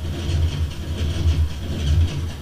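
A Minecraft four-stroke engine build fires with a rhythmic, pulsing drone and low throbbing exhaust note repeating steadily, fairly loud and close, no voices.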